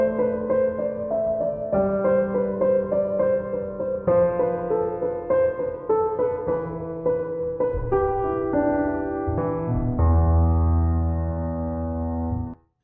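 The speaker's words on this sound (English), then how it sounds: "So first up is the Yamaha S6 Semi-Concert Grand" A Yamaha S6 semi-concert grand piano plays a flowing passage of melody and chords, clear and full, ending on a sustained low chord that cuts off abruptly.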